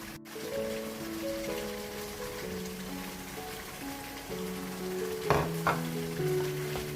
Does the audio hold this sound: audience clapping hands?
no